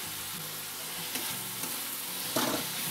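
Frying tomato with salt and spices for Maharashtrian chicken chutney, stirred in a pan over high flame: a steady close sizzle with several scraping stirs and a sharper clack near the end.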